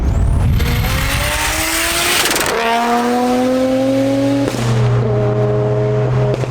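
A BMW sedan engine revs hard through several gear shifts during a race, the pitch climbing and dropping with each change, loud and close with a whine on top.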